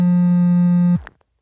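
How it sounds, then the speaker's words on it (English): A home-run buzz plays in the MLB 9 Innings baseball mobile game, a loud, steady electronic tone held for about a second before it cuts off sharply, with no talking. "that buzz means a home run."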